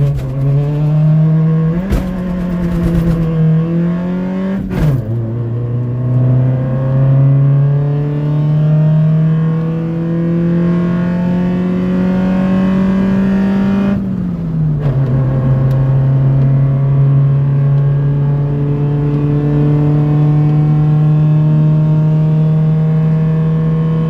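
A Honda Civic on 18-inch wheels, just back from an oil change, revs and pulls away, its engine tone rising through gear changes in a steady, loud drone close by.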